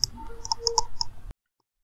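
A computer mouse clicks several times in quick, uneven succession, crisp and close, then stops abruptly into silence.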